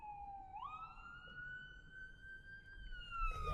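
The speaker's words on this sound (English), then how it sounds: "Ambulance coming behind us." Ambulance siren on the road behind a car, a wailing tone that rises and then holds fairly steady, moderately loud, with road noise underneath and no speech.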